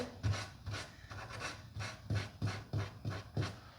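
Rhythmic rasping strokes of sanding across light wood furniture to distress the finish, about nine even back-and-forth passes at close range, each a short scratchy burst with steady pauses between.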